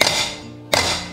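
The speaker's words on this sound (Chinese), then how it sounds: "准备几个剥好的大蒜，我们拍碎" Peeled garlic cloves smashed with the flat of a kitchen knife: two sharp, close thuds about three quarters of a second apart, each with a short ringing tail.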